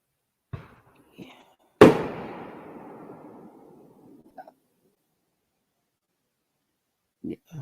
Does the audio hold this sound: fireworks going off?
yes